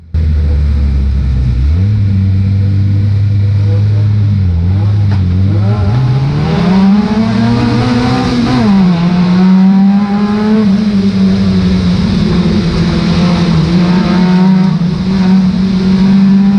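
Stock car engines at Cowdenbeath Racewall roar close by as the race restarts, one loud motor revving up through rising, shifting pitches and then holding a sustained high drone, with other cars rumbling around it.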